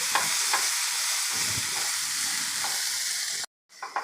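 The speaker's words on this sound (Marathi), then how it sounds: "इथे मी फ्रोझन मटार घेतलेला आहे पाव कप घेतलेला आहे हा सुद्धा आपल्याला परतून घ्यायचा आहे" Frozen peas sautéed in a pan, a continuous close sizzle with soft stirring scrapes throughout, cutting off abruptly near the end.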